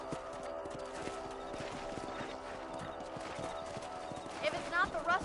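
Horse hooves clip-clopping in the Red Dead Redemption video game, a steady rhythmic trot of sharp knocks throughout, with someone talking over it and a brief whinny near the end.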